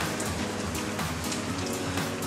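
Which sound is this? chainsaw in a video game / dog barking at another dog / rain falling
rain falling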